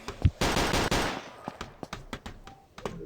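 Three-round bursts of gunfire in the KUBOOM zombie shooter game, a sharp cluster of loud close shots followed by a sparser string of quick punchy cracks and clicks.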